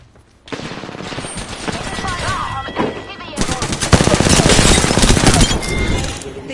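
Video game gunfire in rapid bursts, dense automatic fusillades that start after a brief pause and grow louder and busier toward the end, with a voice mixed in.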